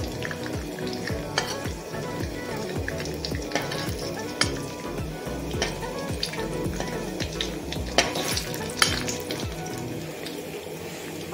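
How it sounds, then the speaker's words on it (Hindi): Dry fruits lightly roasting in a pan for moong dal halwa crackle and sizzle, with repeated scraping strokes of a spoon stirring them and occasional sharper clinks against the pan. "इसे मैं हल्का सा रोस्ट कर दूंगी"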